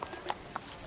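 A horse galloping in The Witcher 3, a few quick, faint hoofbeats clopping in a brief burst.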